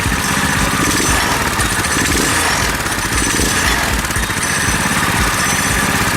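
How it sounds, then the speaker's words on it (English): A repaired KT196 go-kart engine runs steadily and loudly, close by, with a dense, buzzing small-engine drone and no speech over it. "The engine runs great, and the brakes are working very, very well."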